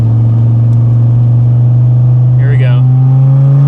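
Dodge Viper fitted with a Belanger exhaust, downshifted into second, with a loud steady engine note rising in pitch as it accelerates, while someone speaks briefly over it.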